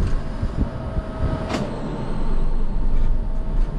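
Cat C9 diesel engine in a Beaver Contessa motorhome cranks and fires up, a steady low rumbling idle heard from the driver's seat with a brief whine at the start and no talk.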